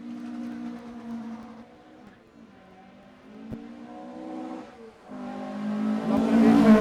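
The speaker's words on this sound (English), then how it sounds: "2 hits on the hard cut limiter there as he came off the line" A Cosworth-powered Mark 1 Ford Escort idles with a throbbing, harmonic engine note at a motorsport revival meet in Geelong, then surges louder near the end as it launches off the line.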